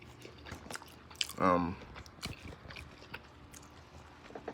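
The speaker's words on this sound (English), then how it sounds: "I'm eating some food right now." Someone chews macaroni and rice with soft, close, irregular bites and crunchy smacks, plus one brief louder tonal burst near the middle and quiet background murmur.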